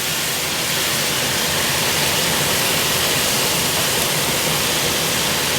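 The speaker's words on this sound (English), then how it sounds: "we're going to add 1/2 cup of chicken stock" Chicken stock is poured into a pan of shrimp pasta, giving a loud, steady rushing hiss that holds evenly from start to finish.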